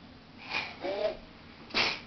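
A small, quiet sneeze-like burst comes first, then a brief voiced sound, then a second sharper sneeze near the end, all faint and close against a low indoor hush.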